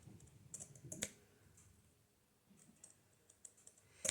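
Pinking shears trim the paper cover of a Valentine junk journal, a few quiet, close crisp snips in short bursts with pauses between cuts.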